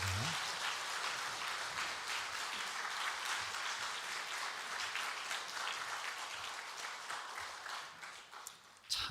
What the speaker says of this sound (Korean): 여러분, 뜨겁게 사랑의 박수 부탁합니다.